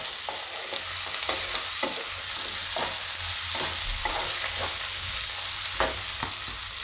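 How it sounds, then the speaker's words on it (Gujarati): Onions sizzle steadily in a pan as they fry for zunka, a Maharashtrian snack, while a spoon scrapes and stirs in regular, repeated strokes. "વચ્ચે વચ્ચે આપણે હલાવતા રહેવું. આ રીતની આપણે ડુંગળી ચડી જવી જોઈએ એમ."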